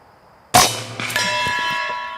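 A single sharp crack from a PCP Air Force .25 caliber air rifle fired off the bottle, followed by a ringing metallic clang that sustains and decays over a couple of seconds.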